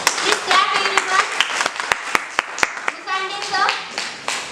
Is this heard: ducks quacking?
no